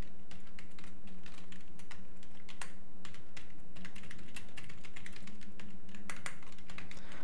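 Steady, fast typing on a computer keyboard while code is entered, a close continuous patter of key clicks with a faint hum beneath and no talking.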